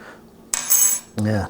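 A small spoon clinks against a pot of two-ingredient chili during a taste test: one bright metallic ring with a short resonant tail, then a duller knock close by, with no talking.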